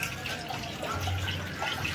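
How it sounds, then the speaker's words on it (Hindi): Cold water runs steadily from a stone tank at a Katra temple, a soft continuous trickle and splash with faint drips, close by and without talk. "ये भी एक कुंड बना हुआ है, इसमें से ठंडा ठंडा जल आ रहा है,"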